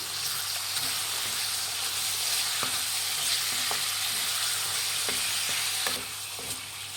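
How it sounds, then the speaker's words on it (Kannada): Chicken with turmeric sizzles loudly in a hot pan, a constant crackling hiss broken by occasional scrapes and taps of a spoon stirring, with no talking. "ಒಂದೆರಡು ನಿಮಿಷ ಚಿಕನ್ನ ಫ್ರೈ ಮಾಡಬೇಕು"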